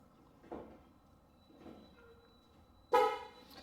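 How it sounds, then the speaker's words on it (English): A short, loud car horn toot comes near the end, used as a signal during manual brake bleeding, after a couple of faint muffled thumps in an otherwise quiet space. "So that horn indicates that he's holding the pedal down"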